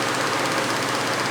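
A John Deere E engine primed with starting fluid sprayed into the carburetor runs steadily and loudly close by, a continuous rough engine drone with a knocking texture and no talking.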